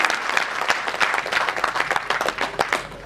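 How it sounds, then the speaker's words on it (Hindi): Dense, steady audience applause at a party convention in Mumbai welcomes a speaker, many hands clapping at once and filling the space loudly for the whole stretch. "जोरदार ताली बजा के साथी का स्वागत करें।"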